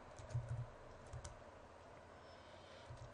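Keys on a computer keyboard are typed in a few quiet bursts, soft and close, with near silence between the taps.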